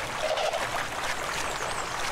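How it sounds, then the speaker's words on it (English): A dinosaur in the video game The Isle runs through water, producing a brief, close rush of splashing and trickling water with no voices. "look up into the water as you're running down it"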